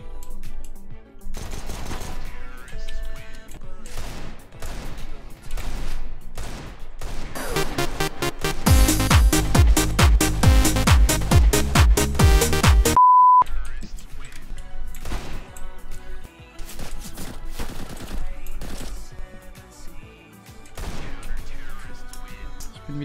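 Rapid gunfire in an online shooter video game, with repeated sharp shots scattered throughout and a dense burst of automatic fire in the middle, mixed with game effects and someone talking over it.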